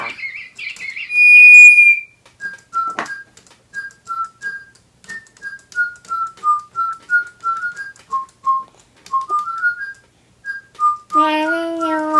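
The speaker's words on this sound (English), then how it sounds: "If you want them to sing, blow the whistle." A toy whistle is blown with a bright, sustained tone, then Digibirds electronic toy pet birds answer with a long run of short, clear chirps and tweets, loud and close, ending in a buzzy warble.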